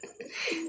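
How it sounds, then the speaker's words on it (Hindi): A Rampuri pigeon gives a single short, soft coo, close by and quiet. "ये रामपुरी कबूतर है हमारा इंडिया का"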